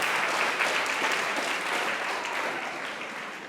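Steady applause from a crowd at a school maths league awards ceremony, evenly sustained throughout with no voices standing out.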